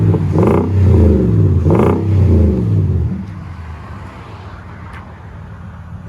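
A Nissan Titan 5.6L V8 with an aftermarket exhaust revs loudly and close by in two strong surges, then settles back to a lower, steady idle rumble.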